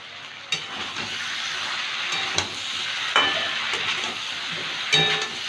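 Hilsa fish head and pumpkin curry simmering in a pan, a steady close sizzle and bubbling with a few clinks of stirring.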